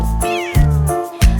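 Cats meow three times in close succession, each call rising and falling, clear and near over a steady musical backing.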